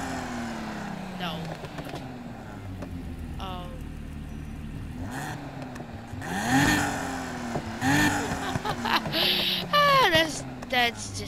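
A tuned car engine in Need for Speed Heat revs through a newly fitted aftermarket exhaust, rising and falling in repeated bursts under ongoing game sounds and a talking voice.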